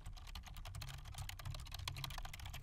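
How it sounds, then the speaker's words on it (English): Quick, close keystrokes clatter on a computer keyboard as text is typed, a dense irregular run of soft clicks with no voices. "Type some text in there"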